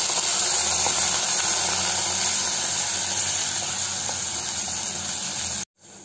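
Water hits a hot frying pan of challe kai pallya, a loud continuous hissing sizzle and steam burst that holds steady, then cuts off abruptly near the end.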